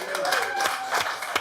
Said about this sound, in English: Oh, you're applauding.